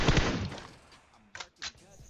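Gunfire in the battle game PUBG Mobile at Rozhok: a loud opening volley that fades out, followed by two short, sharp separate shots.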